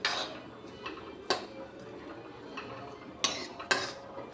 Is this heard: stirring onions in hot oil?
yes